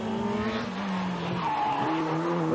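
Rally car at speed on a stage of the 1997 Jersey Rally, engine note rising and falling with tyres squealing and skidding, loud and continuous throughout with no voices.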